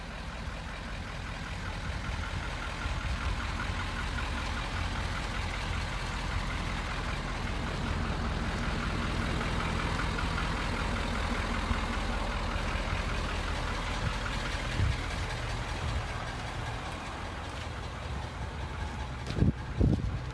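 A 2019 Ford F-450 Super Duty off-road dually truck idles steadily and close by, a continuous low diesel-like rumble holding even for the whole stretch, with a couple of brief knocks near the end.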